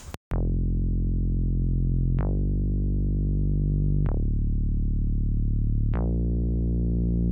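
A dry sawtooth synth with a bright, buzzy tone plays four sustained chords, each struck sharply and held about two seconds, with no reverb tail.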